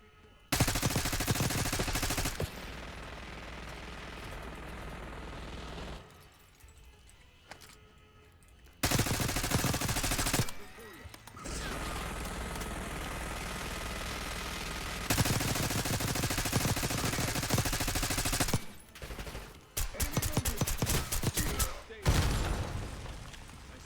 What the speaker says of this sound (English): Stay low until that minigun stops spinning.